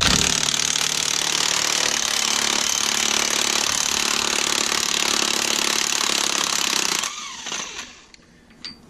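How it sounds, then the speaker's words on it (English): A DeWalt impact gun works on a truck rear end, a loud, continuous rattling hammer burst lasting about seven seconds before cutting off abruptly into a quiet tail of faint clinks. "Big juicy DeWalt impact gun. See how this works."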